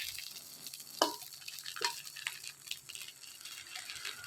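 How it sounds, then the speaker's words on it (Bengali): Lemon garlic rice frying and being stirred over a clay stove at a rooftop picnic: soft sizzling with a few sharp scraping strokes of the utensil, fairly quiet and close, with no talk. "কি রান্না করছো? কি রান্না করছি? Lemon garlic rice."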